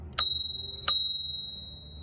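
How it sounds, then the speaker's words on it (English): A mechanical, non-battery bell on a Mankeel 350W electric scooter rings twice, two bright close dings, each left to ring out and fade. "This is the bell."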